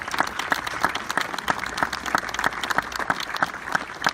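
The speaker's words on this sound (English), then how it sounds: "join me in a round of applause for the rest of our headquarters and support staff" A crowd claps continuously at a US Marine Corps Officer Candidates School graduation, many hands beating in a dense, irregular patter that holds steady throughout, with no voices over it.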